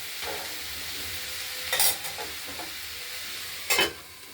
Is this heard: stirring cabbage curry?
yes